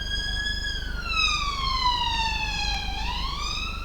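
An emergency vehicle siren wails along a London street, its rising and falling tone loud and continuous over steady traffic rumble, bending lower as it passes by.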